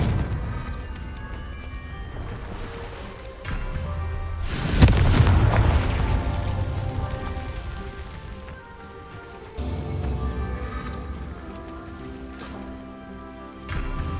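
In Hogwarts Legacy, a Confringo fire spell bursts as a loud booming explosion in the middle of a low, steady game ambience, with smaller rumbling impacts and a tail that fades over several seconds.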